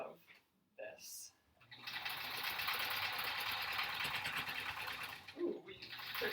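A sewing machine stitches quilt-as-you-go blocks through thick layers, running as one steady, close whir for several seconds before stopping. Brief handling noises come before it.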